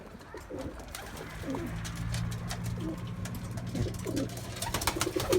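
Domestic pigeons coo close by in a loft, their soft low throaty calls rising and falling in repeated phrases over a steady background murmur.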